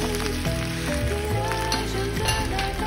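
Onion and Korean fish cakes sizzle in an oiled pan, a steady hiss with stirring, while background music plays.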